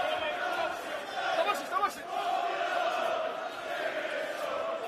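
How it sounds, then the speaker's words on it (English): Boxing crowd roaring continuously during a professional fight between Callum Simpson and Dulla Mbabe, a steady dense cheer with a couple of louder swells in the middle. "The crowd are up"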